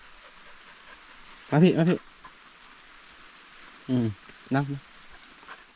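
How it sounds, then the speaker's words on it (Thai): Steady rain patters on a mountain farm, a constant broadband hiss throughout, with brief bursts of nearby speech over it. "ฝนมาอีกแล้วพี่น้อง"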